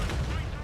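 A single heavy tank cannon blast from World of Tanks, a loud booming shot with a rumbling low tail lasting under a second.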